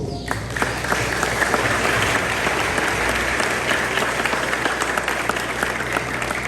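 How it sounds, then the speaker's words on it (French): An audience claps warmly and continuously at a school's fiftieth anniversary ceremony in a church parish setting, a dense, loud, sustained applause from a crowd. "Je vous demande de l'applaudir chaudement."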